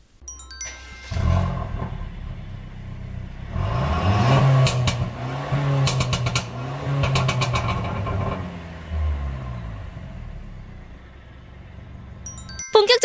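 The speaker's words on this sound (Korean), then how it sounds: "이 차의 배기음부터 듣고 오겠습니다" Mercedes C200 with a custom variable exhaust and remapped tune starts up and revs repeatedly, rising and falling blips over a lumpy idle, fairly close and loud.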